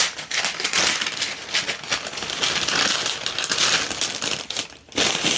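Bubble wrap and baking paper folded together give a close, busy run of crinkling, crackling and rustling, with small pops and rattles throughout.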